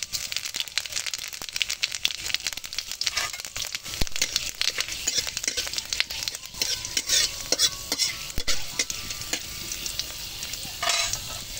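Bengali five-spice seeds (panch phoron) dropped into hot oil in a kadai, crackling and sizzling densely and close up, with scattered sharp pops and spatter throughout.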